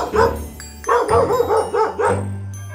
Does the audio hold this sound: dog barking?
yes